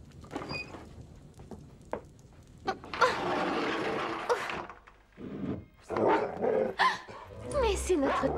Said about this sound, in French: Bonjour, le gros chien.